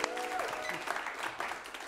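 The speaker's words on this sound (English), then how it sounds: "Let's give all of our players a round of applause." At an improv comedy shootout, the audience applauds the players at the end of the first half, a sustained wash of clapping with some voices and cheers mixed in.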